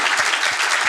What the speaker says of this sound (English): We will thank you with a round of applause again,